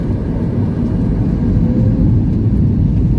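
A loud, steady low roar of a Flair Airlines plane's jet engines during takeoff fills the whole stretch, a continuous heavy rumble with no pauses or voices.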